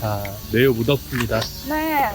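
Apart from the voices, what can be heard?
cicadas chirping on a hot summer day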